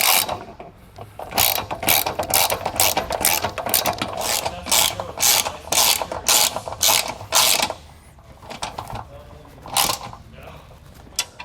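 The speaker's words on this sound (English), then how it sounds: "go ahead and throw your wrench on there" A hand wrench ratchets in quick repeated bursts while bolts are tightened on a Lippert scissor stabilizer jack for an RV, the clicking loud and close with short pauses between strokes.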